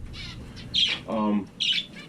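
A few short, bright chirps and squawks from finches close by, with brief pauses between calls and a quiet background.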